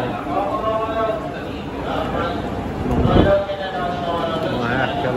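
Trains rumble and squeal at a station in Japan, with a brief swelling roar partway through and people talking over the rail noise.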